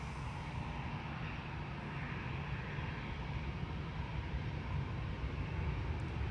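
An airliner lining up for departure to Krakow at Amsterdam Schiphol, a faint, distant, steady rumble of jet engines that holds evenly throughout with no voices.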